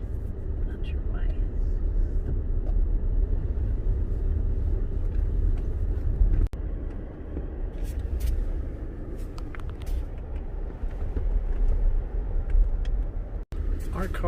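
A Tesla electric car rolls along a road with a steady low rumble of tires and wind under ongoing conversation inside the cabin.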